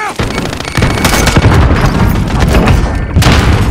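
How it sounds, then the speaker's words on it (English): A grenade blast in a first-person shooter game bursts loud and close, followed by sustained booming gunfire and explosions that roll on without a break. "Grenade out!"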